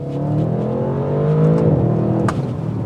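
A 2021 Audi RS7 Sportback accelerates hard, its engine rising in a loud, steady roar heard from inside the cabin, then easing briefly at a shift before pulling on.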